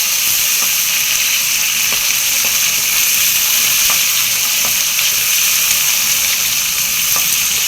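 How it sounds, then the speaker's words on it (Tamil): Small onions sautéing with green chillies in a pan for a Tamil kuzhambu, a steady close sizzle with periodic soft clicks of stirring running throughout, no talking. "வெங்காயம் ஓரளவுக்கு நல்லா வதங்கிடுச்சுலப்பா"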